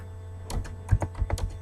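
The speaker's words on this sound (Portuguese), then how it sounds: "eu vou digitar" Fingers typing on a computer keyboard while entering a formula into a spreadsheet, a quick burst of about a dozen close, light clicks in an uneven rhythm.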